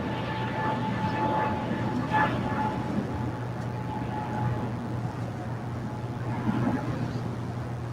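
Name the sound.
Spirit Airlines A320 airplane at LAX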